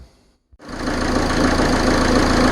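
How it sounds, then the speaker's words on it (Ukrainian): A Peugeot Partner 2.0 HDI diesel engine, overheating and pushing out coolant, cranks briefly then fires and settles into a loud, steady clattering run close by. "Так, запустили двигун"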